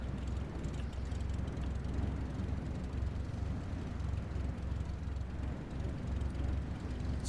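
An airplane rolling on a runway in Microsoft Flight Simulator: a steady, deep engine rumble with a fluttering propeller-like texture, even and continuous, close and without speech.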